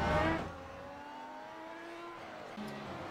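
Race car in the iRacing game accelerates out of a low-speed corner at Motegi, the engine note climbing steadily in a loud, continuous rising whine with a fresh surge near the end.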